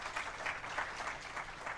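Applause from the gathering at the inauguration of AU-QUASAR, a soft, distant spatter of many hands clapping that holds steady for about two seconds.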